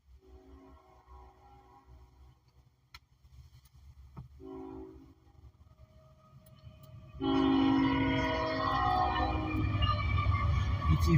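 An eastbound freight train led by an ET44AH locomotive approaches, faint horn tones early, then a loud, steady rumble of the passing consist rises sharply and continues to the end.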